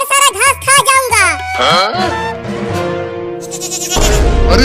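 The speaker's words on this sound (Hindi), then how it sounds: "अरे वाह बकरी का बच्चा" A baby goat bleats in a series of quivering, wavering calls, loud and close, within a cartoon soundtrack that shifts into other voices and a burst of noise at the end.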